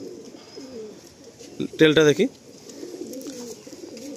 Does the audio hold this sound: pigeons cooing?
yes